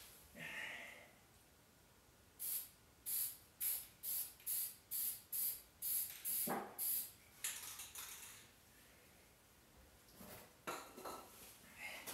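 A spray can or spray gun puts another coat of paint on the side of a truck in a rapid series of short, even hissing bursts, with a few scattered longer sprays before and after, fairly faint.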